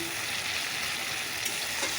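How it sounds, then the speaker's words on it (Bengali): Onions and tomatoes fry in a pan as the base for a kalo jeera fish curry, giving a dense, continuous sizzle with faint stirring, close and steady throughout. "পেঁয়াজ দিয়ে দিয়েছি টমেটো দিয়ে দিয়েছি এটা মোটামুটি ভাজা হয়ে গেছে"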